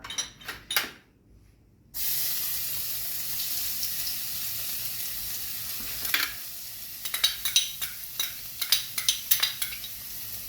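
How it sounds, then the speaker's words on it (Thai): Garlic frying and stirred in hot oil for shrimp fried rice: a few clattering knocks, a brief hush, then a loud steady sizzle up close, with sharp scraping taps of the stirring utensil building toward the end. "ต่อไปเราจะใส่กระเทียมนะครับ"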